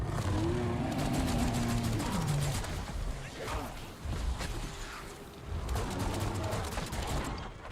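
A gun in Black Ops 7 fires in rapid, continuous bursts, sharp repeated shots under busy game noise, pausing briefly before resuming in another quick volley.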